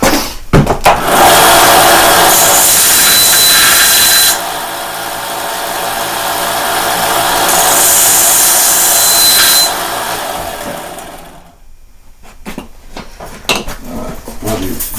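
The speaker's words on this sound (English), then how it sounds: "I'm going to need to sand it just a little bit anyway." Power sanding of a hollow point air rifle pellet gives a loud, harsh, continuous grinding whir that dips and swells for about ten seconds, then stops, leaving faint handling clatter.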